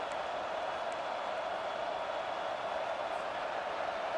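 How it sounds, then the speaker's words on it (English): Crowd noise in an American football video game, a steady, moderately loud wash of stadium roar and cheering without breaks, sitting beneath the play. "And the crowd is getting into it early here on 3rd and 10."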